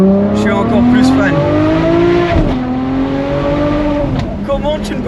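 A Ferrari 599 GTO's V12 revs hard while driving, a loud, close in-cabin howl with rising harmonic sweeps through gear changes, a brief dip and shift mid-way, and a voice speaking over it.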